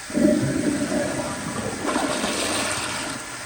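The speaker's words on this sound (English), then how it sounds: "Here is another very short and very weak flush." A 1997 Kohler Highcliff toilet giving a short, weak flush: a brief gurgling rush of water that quickly fades into a thin, steady hiss of refilling, heard close by with no talk.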